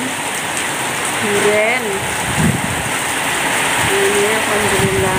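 Heavy rain pours down hard and constantly, a dense loud hiss of water on surfaces heavy enough to cause flooding, with a voice speaking briefly over it.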